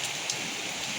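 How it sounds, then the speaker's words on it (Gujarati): Heavy rain pouring in the Vasna Jivraj Park area of Ahmedabad, a steady broadband hiss of downpour on surfaces, faint and even with no talk, lasting about a second. "અમદાવાદ શહેરમાં વાસણા જીવરાજ પાર્ક વિસ્તારમાં ધોધમાર વરસાદ"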